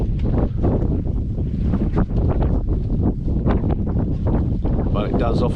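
Strong wind at an exposed anchorage bay on Rinea Island near Delos in the Greek Cyclades, a loud, constant buffeting roar against the microphone with no pauses.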